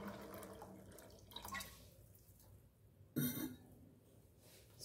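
Water poured into a cooking pot holding a potato, a faint trickle and splash up close, with a brief louder gush near the end and no talking.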